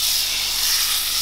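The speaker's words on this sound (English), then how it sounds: "To that, I'm gonna add a nice big knob of butter and get that sizzling." A big knob of butter sizzles in a very hot pan on an AGA range as an omelette is started, giving a steady, close hiss with no talking over it.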